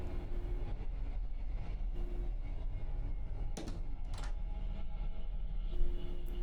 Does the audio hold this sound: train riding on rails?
yes